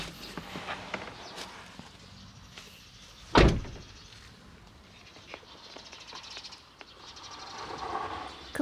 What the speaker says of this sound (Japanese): ちょっと駐車場が傾いていて扉を開けるのに一苦労っていう